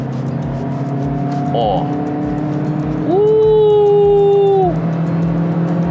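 A 2024 Mazda 2 hatchback takes a corner at speed, heard from inside as a steady road and engine rumble with a drawn-out tonal whine partway through, while a person speaks over it.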